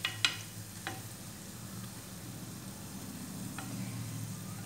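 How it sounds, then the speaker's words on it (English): Binangkal dough balls rolled in sesame seeds frying in hot oil, a steady low sizzle throughout with a few faint clicks near the start. "and fry in the oil."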